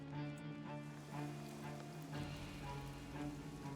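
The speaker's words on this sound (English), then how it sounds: "I guess it's just the rain." Rain patters steadily in a video game, a soft, even hiss of drops on surfaces with faint low rumbling underneath, continuous throughout.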